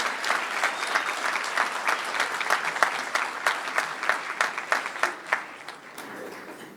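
An audience at a school board meeting claps for a group of honored students, a lively round of many hands with sharp individual claps standing out, building and then thinning near the end.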